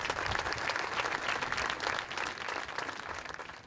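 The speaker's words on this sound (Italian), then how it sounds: "Un applauso" Steady, dense applause from an audience at the 2009 Premio Navicella Sardegna award ceremony, continuous and fairly loud throughout with only slight dips near the end.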